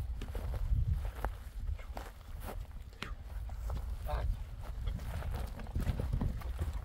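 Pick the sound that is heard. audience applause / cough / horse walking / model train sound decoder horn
horse walking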